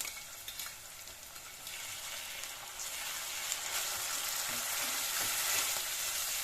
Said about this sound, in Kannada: ಶುಂಠಿ ಬೆಳ್ಳುಳ್ಳಿ ಚೆನ್ನಾಗಿ ಫ್ರೈ ಆಗಬೇಕು ಈರುಳ್ಳಿ ಜೊತೆಗೆ